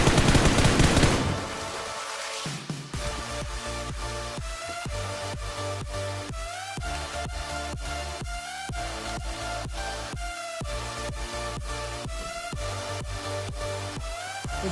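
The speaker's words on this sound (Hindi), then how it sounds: "देखो भाई फायर कर रहा है।" Rapid automatic gunfire from the PUBG Mobile battle royale game on the Erangel map rattles in steady bursts of evenly spaced shots, loud and continuous, following a brief noisy opening.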